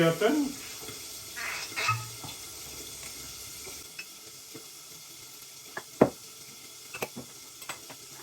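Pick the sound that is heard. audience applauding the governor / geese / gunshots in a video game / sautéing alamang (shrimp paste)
sautéing alamang (shrimp paste)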